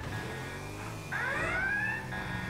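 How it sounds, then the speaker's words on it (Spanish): In the game GTA V, an alarm system sounds, with a rising electronic wail sweeping upward over a steady game background, loud and close, with no talking. "Alarma, el sistema de alerta."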